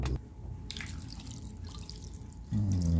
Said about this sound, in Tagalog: Tapos lagyan na po natin siya ng tubig.